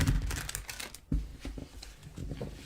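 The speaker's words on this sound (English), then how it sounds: "I'm gonna have this one and last shuffle" Tarot cards shuffled by hand in a quick, crisp riffle of papery flicks and soft slaps, close and moderately loud, with a brief pause midway before the shuffling resumes.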